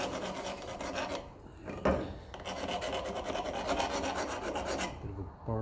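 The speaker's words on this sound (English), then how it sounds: "At the very end, I hit that with sandpaper." Sandpaper worked against a part from a Lucas dynamo on a 1954 Ferguson 20 TEF diesel: close, continuous rasping strokes in a steady back-and-forth rhythm, heard alone with no talk.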